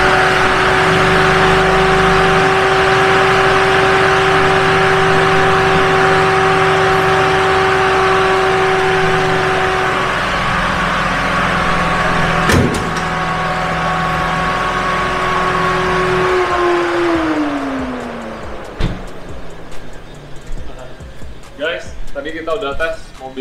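A BMW M2 Competition sports car rated at 636 hp cruises with a steady, droning engine hum and road roar, then the engine note drops as the car slows, and a voice speaks near the end.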